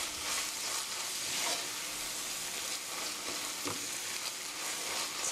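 Pork and kimchi sizzle steadily in a hot pan as they are stir-fried, a continuous close frying hiss with faint scraping and stirring sounds throughout.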